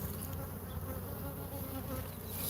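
A dense, steady swarm of honeybees buzzing around an open hive on a hot day, close and continuous for the whole stretch with no talking.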